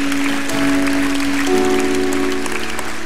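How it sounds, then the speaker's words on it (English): A church congregation claps in praise during a revival service in Fort Smith, Arkansas, a steady wash of applause that runs the whole moment while a sustained tone, likely music, holds underneath. "Let's give the Lord a clap."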